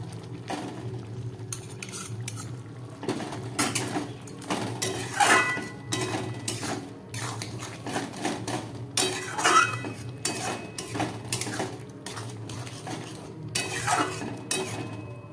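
A metal spoon stirs tomato sauce into rajma (kidney bean curry) in a cooking pot, giving steady scraping and clinking against the pot walls throughout, close and continuous with irregular sharper taps.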